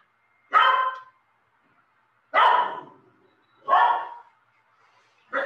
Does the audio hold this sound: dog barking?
yes